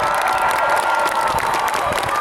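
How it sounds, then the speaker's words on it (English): A crowd at an Air Force basic training graduation applauds and cheers for the new airmen, a dense, loud wash of clapping and shouts throughout. "Give them a round of applause"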